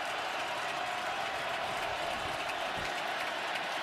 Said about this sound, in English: Crowd is revved up.